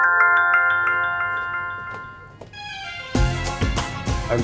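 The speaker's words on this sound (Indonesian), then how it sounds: "Ada telepon tuh." A phone ringtone plays a repeating melodic chime pattern that fades, then a burst of louder music-like tones cuts in near the end, indoors with no talk.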